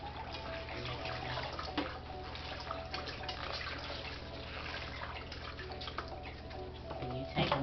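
Leafy greens are swished and rinsed in a sink filled with water, giving soft, continuous sloshing with small drips and splashes, quiet and close, with no talking.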